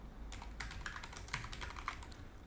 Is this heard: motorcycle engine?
no